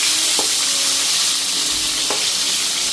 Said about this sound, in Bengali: এদিকে পটলগুলি দিয়ে দিলাম।